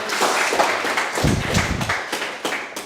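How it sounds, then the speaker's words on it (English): A room full of people at a startup pitch event clap together in a brief burst of applause, steady and moderately loud, fading slightly toward the end. "Big round of applause there."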